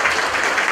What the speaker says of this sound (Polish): Wielkie brawa, proszę państwa